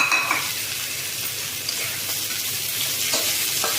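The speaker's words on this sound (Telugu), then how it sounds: "ఇప్పుడు 1 కప్పు తోటకూర వేసుకోవాలండి." Amaranth leaves are stirred into a hot pan of frying rice, giving a steady, close sizzle with occasional scrapes of the spoon against the pan.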